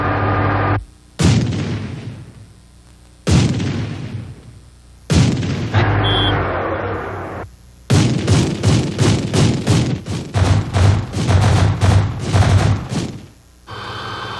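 Cannon on a Bradley armoured vehicle firing: loud, close booming shots, first several single rounds separated by pauses, then a rapid rattling burst of many shots before it falls silent.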